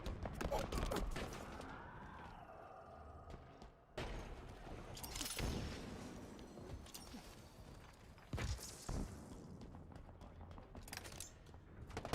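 Gunfire in the Halo video game, bursts of rapid shots and fusillades with thuds and footsteps, moderately loud amid game sound effects.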